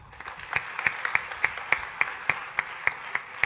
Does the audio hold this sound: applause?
yes